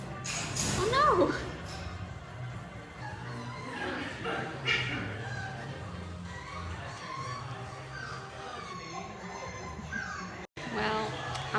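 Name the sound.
dogs barking and whimpering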